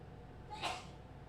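A single short sneeze, faint and brief, rising over a quiet room hum.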